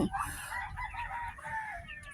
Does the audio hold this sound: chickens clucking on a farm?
yes